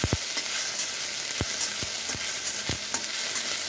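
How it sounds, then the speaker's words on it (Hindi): Cumin and ginger garlic chili paste fry in hot oil in a pan, giving a steady close sizzle with occasional stirring scrapes and no talk. "इसको हम भून लेंगे।"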